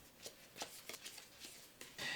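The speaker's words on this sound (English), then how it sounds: "This means shuffling the cards you drew back into your deck" Playing cards for the board game Twisted Fables are shuffled back into the deck, giving a few soft riffling bursts and light clicks, close and quiet with no voices.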